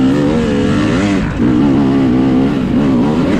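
A KTM 300 dirt bike revs hard near the top of a hill during a hare scramble race. The two-stroke engine is loud and close, its pitch rising and wavering as the throttle is whacked open, with a short dip midway.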